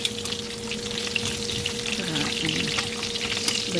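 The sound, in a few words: frying potatoes in cooking oil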